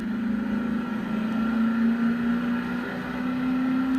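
Triumph Vitesse car engine driving under load, a loud, steady drone with a slowly rising pitch as it pulls hard, heard close up and continuous throughout.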